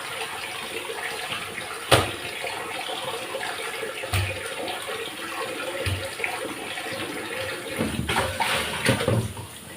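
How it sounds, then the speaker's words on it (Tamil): Steady running water splashes and sloshes continuously, with occasional knocks and louder splashes as meat is rinsed by hand with turmeric. "நல்லா தண்ணி போட்டு மஞ்சத்தூள்லாம் போட்டு நல்லா கழுவணும்"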